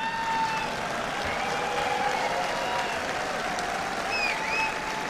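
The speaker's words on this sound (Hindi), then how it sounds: "ये ताली दम वाली क्यों नहीं थी" Audience applause at a public address, a steady wash of clapping from a large crowd that holds evenly for several seconds without a break.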